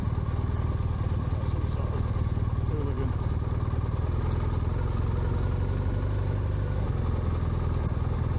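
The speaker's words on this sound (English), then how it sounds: "Riding two noisy motorcycles through a campsite mid-afternoon when everybody's chilling out." Two noisy motorcycles ride slowly through a campsite in Luxembourg in mid-afternoon, a steady loud low engine rumble with some clatter throughout and no voices.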